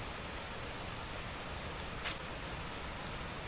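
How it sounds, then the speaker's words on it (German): Steady, high-pitched cricket chirring fills the whole stretch at Benang Stokel waterfall on Lombok, a continuous insect drone with no voices. "Das sind Grillen, ne?"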